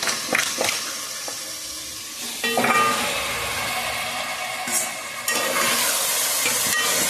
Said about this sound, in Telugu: ఇప్పుడైతే ఇదిగో నేను కలిపి పెట్టుకున్నటువంటి చికెన్ అయితే ఇందులో వేస్తున్నానండి